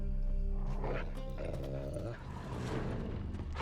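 Dogs bark and growl in The Witcher 3: Wild Hunt, a loud cluster of yips and barks over a dense game soundscape with a low rumble.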